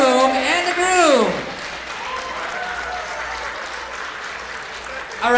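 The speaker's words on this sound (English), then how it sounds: "Let's get a big round of applause for the mother of the groom and the groom." Guests at a wedding reception applaud in a steady wash of clapping after a brief spoken announcement, loud at first and then settling to a sustained, even level through the end.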